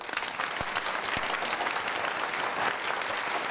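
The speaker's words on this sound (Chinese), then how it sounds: "多鼓掌，多鼓掌" An office gathering of bank staff breaks into applause, a dense, steady clapping from a room full of people, close and continuous without a break.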